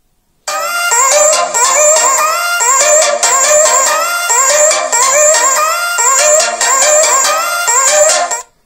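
A cheap mini speaker ordered from AliExpress plays a music track at maximum volume, steady and loud with a bright, dense mix and rhythmic pulses running throughout, no talking over it.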